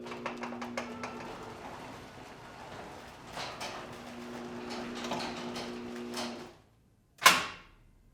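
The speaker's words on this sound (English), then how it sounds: "So when the door goes all the way down, it locks." A Chamberlain RJO20 garage door opener hums and rattles steadily as the door travels down and shuts, then a brief silence and one sharp loud clack as the deadbolt locks.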